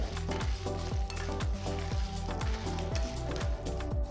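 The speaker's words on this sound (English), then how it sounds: "add about 15 red chillies, 7 cloves of garlic and fry them well" Red chillies, garlic cloves and urad dal sizzle in a pan for horse gram chutney, a steady close frying hiss broken by regular rhythmic scrapes of stirring, with no voices.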